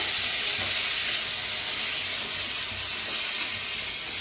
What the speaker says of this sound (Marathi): आता तेल ओतून भाजून घेऊया।